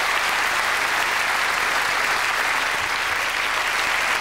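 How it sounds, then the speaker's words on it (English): A theatre crowd at a live comedy show gives the musicians a loud, sustained round of applause, thick even clapping from a large audience with no talking over it. "Ladies and gents, please, a nice round of applause for our musicians"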